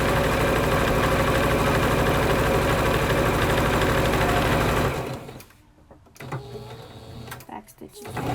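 Sewing machine back stitching along a garment sleeve, a loud, steady mechanical whir running continuously for about five seconds before stopping abruptly, followed by quiet room noise and faint movement.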